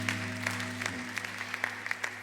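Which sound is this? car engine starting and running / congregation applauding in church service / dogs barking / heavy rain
congregation applauding in church service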